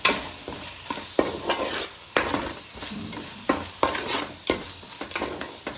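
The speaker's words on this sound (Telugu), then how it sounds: "ఉప్పు వేసుకొని కలుపుకొని బాగా మిక్స్ చేసుకోవాలి." A spoon stirs salt through a simmering fish curry in a pan, with a steady series of sharp scraping strokes about once a second over a soft background sizzle, close and fairly loud, with no voices.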